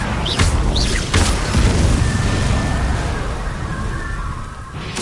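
An Incendio fire spell cast in Hogwarts Legacy bursts with a loud whooshing boom, followed by a crackling, rumbling fiery tail that slowly fades, with brief sharp magical zings near the start.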